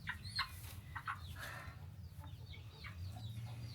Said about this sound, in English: The biggest chicken ever.